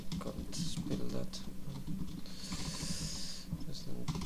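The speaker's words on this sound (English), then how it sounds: "I am typing too fast." Quick bursts of clicking on a computer keyboard while a C++ program is typed out fast, the key taps running under a person's talking.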